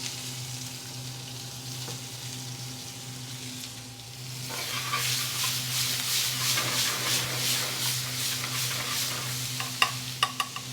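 Onion hits hot butter ghee with a bay leaf in a pan for a restaurant-style Kulchi lamb, a quiet hiss rising into loud crackling sizzle with stirring and a few sharp clicks near the end, no talk.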